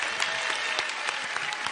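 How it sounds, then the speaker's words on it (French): Studio audience clapping on a French TV comedy show, a short burst of dense applause with sharp accents sounding close and steady throughout. "on l'applaudit"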